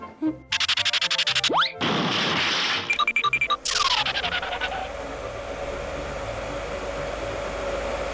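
A hair dryer blows in a loud steady rush for a few seconds amid busy mixed sounds, cutting in and out with bangs and a rising squeal, before settling into a low continuous hum.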